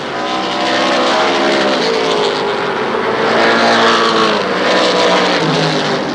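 Stock cars race around Shadybowl Speedway, a small oval track, in the Neal Sceva Memorial, with several engines roaring loudly and steadily together as the pack passes, pitch rising and falling as the cars sweep by.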